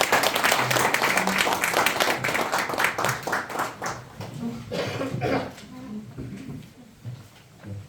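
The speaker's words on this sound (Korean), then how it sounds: "큰 박수로 환영해 주시죠" An audience claps in welcome for a visiting group of clergy and congregation members at a temple gathering, a dense burst of applause that thins out over several seconds.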